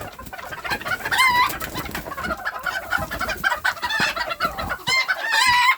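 A flock of bantam chickens and roosters clucks and squawks without pause, loud and close, with some higher calls rising over the steady chatter.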